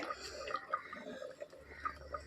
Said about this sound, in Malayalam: നന്നായിട്ട് തളിച്ച് വരുന്നുണ്ട്